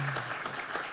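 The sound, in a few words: audience applauding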